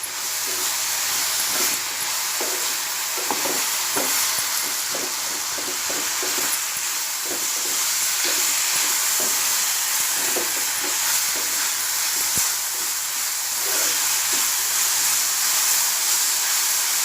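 Spring onion and dried kolim fry together in a pan, giving a loud, continuous hissing sizzle with soft scraping stirs and small ticks scattered through it, close up and without talk.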